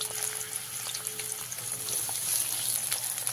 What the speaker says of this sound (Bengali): বাকি বেগুনগুলোকেও আমি ভালো করে ভেজে নেব।